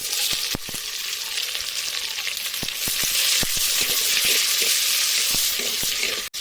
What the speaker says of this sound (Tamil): வெங்காயத்தை கொஞ்சம் நல்லா வதக்கி இருக்கேன்